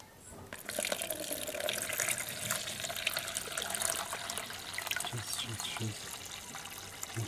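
Water from a bucket of soaked husks and ammonium nitrate solution is poured off into another pail, a steady close splashing trickle lasting several seconds with small drips and clinks near the end.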